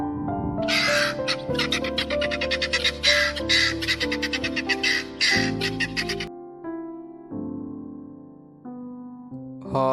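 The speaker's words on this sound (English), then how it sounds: "Guineafowl." Guineafowl call in a fast, rhythmic run of loud, harsh repeated cries lasting several seconds over a background of tonal music, then break off, leaving the music alone.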